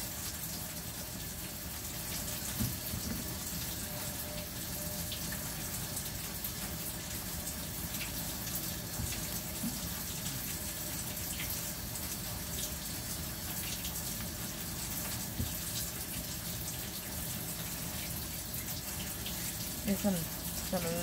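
Kitchen tap running steadily while something is washed for a Guyanese-style curry pumpkin and salt fish dish, a constant close gush and splash lasting the whole stretch, with faint speech beneath.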